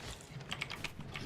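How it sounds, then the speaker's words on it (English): Computer keyboard typing during a live game stream: a faint, irregular run of quick key clicks over a low background hum, with no voices. "Mostly just hear your keyboard"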